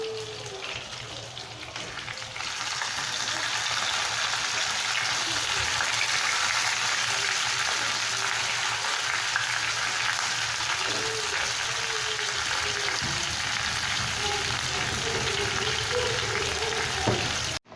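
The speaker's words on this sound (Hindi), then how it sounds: "ये देखिए तंदूरी चिकन हमारी कितनी अच्छी तरीके से फ्राई हो रही है" Tandoori chicken pieces frying in a little oil in a pan, a steady loud sizzle that holds constant throughout after a quieter start, with a voice talking over it at times.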